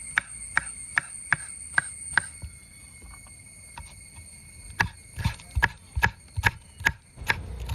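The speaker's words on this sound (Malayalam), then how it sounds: "പച്ചമുളക് അരിഞ്ഞിട്ട് കാണാം" Green chillies chopped with a knife on a board for a chicken roast: a quick series of sharp, crisp taps, then a pause and another faster burst of close, distinct knife strikes.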